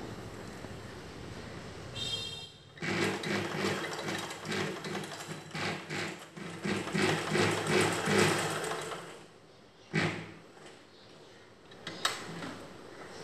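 A domestic sewing machine stitching a blouse back neck piece runs in steady, fast bursts of needle chatter, pausing briefly around the tenth and twelfth seconds, close and fairly loud with no voices.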